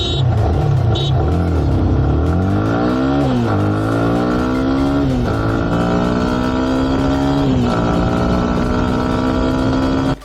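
A Yamaha FZ25 motorcycle engine revs and accelerates hard through several gear changes, loud and close, its pitch climbing and dropping repeatedly over about ten seconds with no talking.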